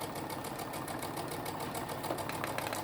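A sewing machine stitches back over lace on a fabric surgical-style face mask, its rapid steady needle chatter running loud and close without a break and no talk.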